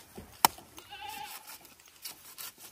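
Goats on a Jamaican farm give a short bleat after a sharp knock, fairly faint amid outdoor farm background noise.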